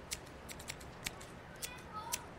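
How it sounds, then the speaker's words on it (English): Scissors cutting through a photograph, a series of crisp snipping clicks in an uneven rhythm, close by over a hissy background. "I've got this scissors here to cut off your head."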